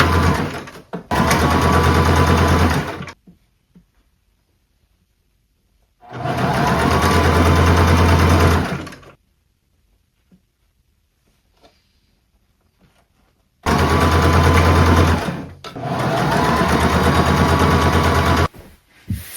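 A sewing machine stitches fabric cups onto a top, running in three loud, close bursts of rapid mechanical whirring with quiet pauses between them, and no talking.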